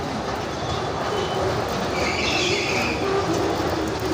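A train at a busy railway station, a steady loud rumble of wheels and carriages with a faint squeal rising midway, continuous throughout with crowd ambience and no clear talking.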